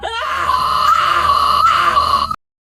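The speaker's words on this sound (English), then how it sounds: "So it's some scary screaming sounds here because of course, I defined this in the text prompt" AI-generated scary screaming sound effect: a sustained, loud, strained wailing scream holding a steady pitch for about two seconds before cutting off abruptly, with no other sounds.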